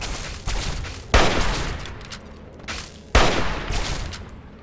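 Gunshots in the post-apocalyptic game Fallout 3: two loud, sharp reports about two seconds apart, each trailing into a long echoing decay, over a fainter earlier shot and steady background noise.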